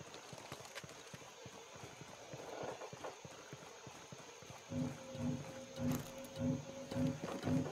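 A wild pig running in the video game Ghost Recon Breakpoint, its rhythmic thudding footfalls rising clearly near the end above a hissy outdoor game ambience.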